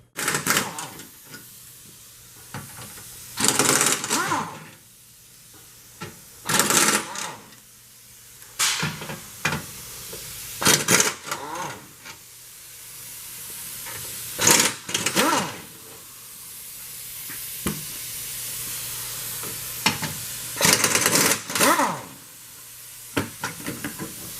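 A socket wrench working bolts off a Land Rover LR2 underbody plate, with repeated short bursts of rapid ratcheting clicks separated by pauses, close up over a low background hum, with someone speaking between bursts.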